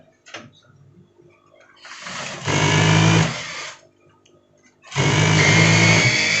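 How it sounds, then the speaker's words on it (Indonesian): A sewing machine stitching a jacket lining to the body with a 1 cm seam, two loud steady whirring runs of rapid stitching separated by a quiet pause with faint handling sounds. "Langsung kita jahit dari badan ke puring sebesar 1 cm."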